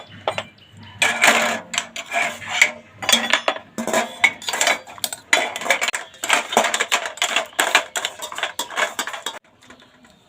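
Metal gas stove burner parts clatter and clink one after another as they are dropped into a container of hot water, a busy run of close, loud metallic knocks and rattles with short pauses between.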